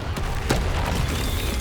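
The Confringo fire spell bursts in Hogwarts Legacy with a loud, booming blast that leaves a rumbling, crackling tail, with no talking over it.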